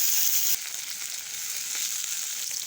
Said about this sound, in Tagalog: Gisahin natin. Lagyan ng kamatis.